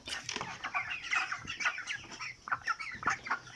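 Broiler chickens cluck in a busy, overlapping chorus, with short rapid calls from several birds close by, and no talking.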